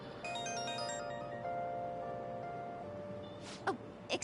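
Phone ringing in the Persona 5 Royal video game, a steady electronic ringtone tone repeating for a few seconds, followed by a couple of brief breathy vocal sounds near the end.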